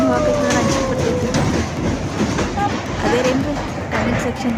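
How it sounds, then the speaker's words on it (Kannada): A passenger train crosses a bridge on the line from Kudchi to Belagavi, giving a steady, loud rumble with rhythmic clatter and faint wheel squeal throughout, close to the listener. "ಯಾರ್ಯಾರಿಗೆ ಬ್ರಿಡ್ಜ್ ಮೇಲೆ ಟ್ರೈನ್ ಹೋಗಕ್ಕೆ ಅಂಜಿಕೆ ಬರ್ತೈತಿ"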